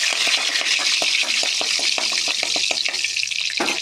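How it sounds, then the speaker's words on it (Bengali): Bay leaf dropped into hot fish-frying oil sizzles with a steady, loud hiss, broken by faint scattered crackles and pops, close up with no talking. "প্রথমে দিয়ে দেব মাছের তেলেতে তেজপাতা"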